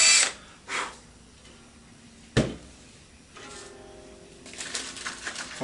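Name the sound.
drilling a hole for Woodsounds harp levers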